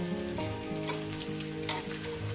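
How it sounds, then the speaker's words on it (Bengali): Malabar spinach stems frying with salt, sugar, dried chilli and spices in a pan, a steady close sizzle with occasional stirring scrapes, no voices. "সুন্দর করে এইভাবে একটু ভেজে মিনিমাম সাত আট মিনিট ন মিনিট ধরে মানে আট ন মিনিট ধরে ভাজতেই হবে"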